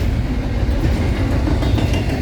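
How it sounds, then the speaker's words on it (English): A freight train hauled with a CN Tier 4 locomotive placed mid-train rumbles past close by, a loud, steady roar of wheels and cars with faint rhythmic clatter and no voices. "Here comes a CN Tier 4 as a mid-train here."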